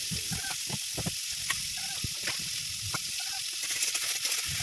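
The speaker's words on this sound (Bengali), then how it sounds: "কড়াইটা গরম হয়ে গেছে তো এর মধ্যে আমি দিয়ে দেবো চিংড়িগুলো দিয়ে ভালো করে ভেজে নেবো" Shrimp coated with salt and turmeric frying in hot oil in a wok for a Bengali gourd-and-shrimp curry, giving a steady close sizzle with scattered sharp crackles and pops throughout.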